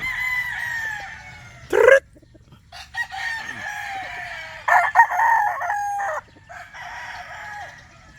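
Roosters crow from a Boston Black and gray fowl flock, several long crows and clucks rising and falling over a low background hum, with a few quiet gaps between calls.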